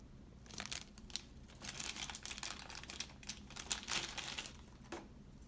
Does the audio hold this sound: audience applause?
no